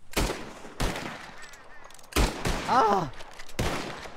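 Gunfire aimed at birds taking flight in Red Dead Redemption 2, several sharp shots spaced across a few seconds, loud and close, with a brief exclamation and a fluttering call between them.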